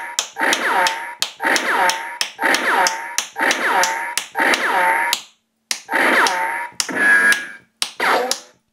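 A talking, score-keeping paintball practice target being tapped repeatedly, each loud close tap setting off a short electronic voice clip, about eight bursts in a steady rhythm with brief gaps.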